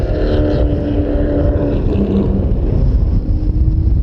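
Toyota Southwest Superlate race cars roar up the hill at Willow Springs International Raceway, a loud, continuous engine drone that shifts pitch as the cars pass, with heavy wind buffeting on the microphone.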